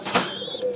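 A pair of Giribaz pigeons at a Khulna pigeon market gives a short, fairly close coo with a soft rising tone after a brief rustle, heard alone.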